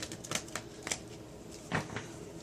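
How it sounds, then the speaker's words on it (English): Tarot cards shuffled on a desk, a series of crisp riffling bursts with two louder flurries separated by softer rustling, close and alone with no talk. "So I'm going to properly shuffle on the desk as well."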